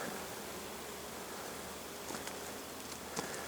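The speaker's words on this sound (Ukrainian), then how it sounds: "Яблуньки гудуть." Honeybees hum around apple blossoms in an orchard, a faint, steady buzzing drone over soft outdoor background noise, with a few light rustles near the end.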